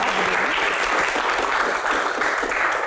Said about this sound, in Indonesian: Tepuk tangan buat quote of the day.